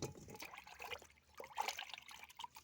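Peeled carrots being rinsed under running water, a soft continuous splashing and trickle with irregular swells, faint and close, no speech.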